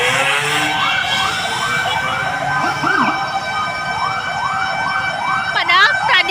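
A fire engine's wailing siren passes through street traffic, rising and falling in steady repeated sweeps, loud and close, with a short burst of a second siren tone near the end.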